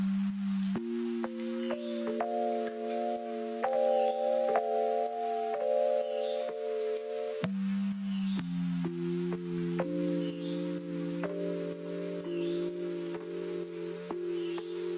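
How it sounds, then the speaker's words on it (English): Chopped electric piano sample with its high end cut, sidechained to a kick, playing mellow sustained chords that pulse and duck in a steady rhythm, changing chord partway through, with no voices. "The first sound is this little chop of electric piano that was really,"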